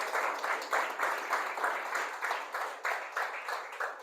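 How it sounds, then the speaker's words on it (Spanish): Congregation applauding in a church, loud sustained clapping with a slightly pulsing rhythm that continues steadily throughout. "Dele un aplauso al Señor."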